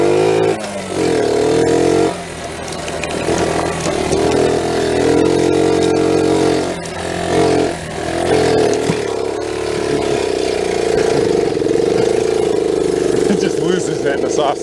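A restored Honda Z50 minibike running while being ridden, a close, buzzy small engine holding a steady hum with brief dips and revs as the rider shifts between gears, while people talk over it.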